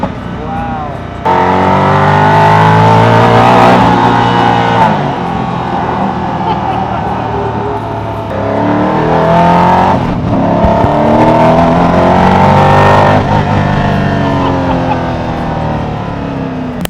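Riding inside a Koenigsegg Agera RS, the engine roars hard through two long acceleration pulls with rising pitch, split by a brief gear-change dip. The sound is loud and close, with no speech over it.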